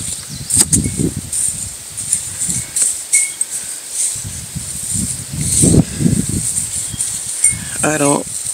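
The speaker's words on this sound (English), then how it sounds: "It is really windy today." Strong wind sweeps through a garden in gusty, low buffeting rumbles over a constant airy hiss, with short quieter lulls between the blasts and a brief chirp near the end.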